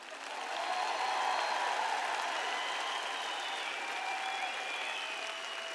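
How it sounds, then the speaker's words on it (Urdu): An audience at a sermon-style gathering applauds in a steady wash of clapping that lasts about six seconds at an even, moderate level. "اس پر اتنی زیادہ تالیاں نہیں بجیں۔"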